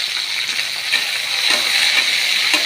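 Onions sauté in hot oil with cumin seeds and salt, giving a steady, close crackling sizzle with occasional stirring scrapes and no voices.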